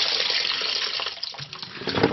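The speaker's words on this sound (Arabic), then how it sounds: "حط له مي جديد" Fresh water running steadily into a vessel being cleaned, a continuous close splashing and gurgling rush that lasts throughout.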